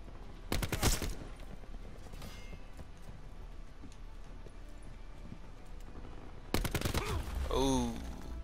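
Gunfire from the video game Call of Duty Black Ops 4 comes in two sharp bursts of rapid shots, one near the start and one near the end, with quieter game ambience between them.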